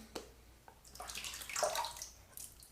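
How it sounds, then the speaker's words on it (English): Water trickles and drips onto duck fat shave soap, a faint close splashing with a few brief drips and a short louder pour in the middle, quiet and without talk. "I'm going to add some water to that"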